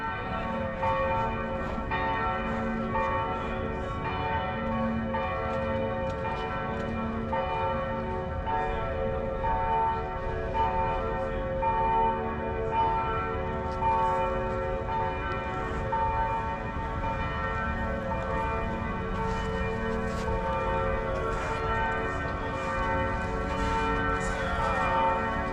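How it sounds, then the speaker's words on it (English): Church bells in Vilnius ring out at noon. Several bells sound together in a continuous, overlapping peal at moderate distance, with no voices over them. "Just listen to the church bells."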